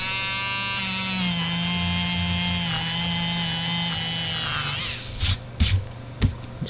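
An electric eraser motor whines steadily at a high pitch, dipping and slowing briefly under pressure before stopping, followed by a few brief close handling noises.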